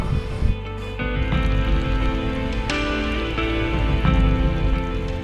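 Rain falls steadily on a northbound expedition toward Cape North, a continuous broadband wash under a low droning engine-like hum, with a few sharper knocks scattered through.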